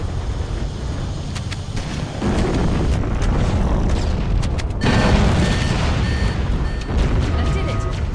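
Deep booming explosion from a fusion reactor in the video game Halo CE, a loud continuous rumble that swells twice, around two and five seconds in, with a voice speaking over it.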